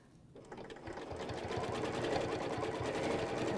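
Sewing machine stitching along a deep oval mini arc ruler template, a rapid steady needle rhythm that starts up and runs continuously at close range.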